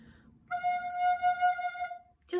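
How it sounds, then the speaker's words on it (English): Low F on a soprano recorder played with German fingering: one held note lasting about a second and a half, clear and close, with faint room noise beneath and no voices. "if you play it with the German fingering"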